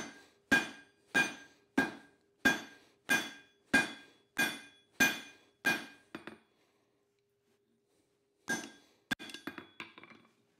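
A hammer strikes a steel drift on an anvil in a steady run of about ten ringing blows, then a pause, then a quicker cluster of lighter taps, close and clear.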